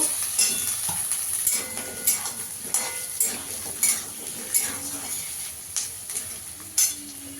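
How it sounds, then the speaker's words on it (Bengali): Diced potatoes and onions fry in a pan with a soft sizzle, broken by repeated scrapes and clinks of a spatula stirring against the metal. "আলুটাও পেঁয়াজের সঙ্গে একটু ভেজে নেব।"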